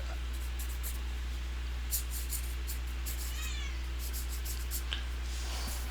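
A house cat meows a few times, fairly close but soft, over a steady low hum and faint scratching of a pen on paper while someone draws.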